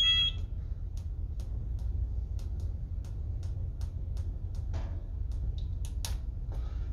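High-level alarm for the heavy fuel oil drain tank in a ship's engine room, sounding as a short beeping burst at the start and then faint, sparse ticks and beeps over a loud, steady low machinery rumble.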